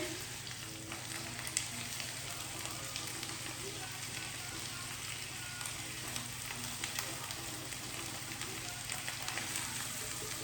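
Stuffed chicken breast sizzles steadily in a hot frying pan, with a constant dense crackle of frying fat and a few faint clicks and scrapes during flipping.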